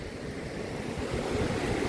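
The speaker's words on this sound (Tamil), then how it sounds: "அதில் வந்து தண்ணி இப்படி ஓடுது" Mountain stream water rushes steadily beneath a small bridge near a waterfall, a continuous broadband roar with no pauses, close and fairly loud.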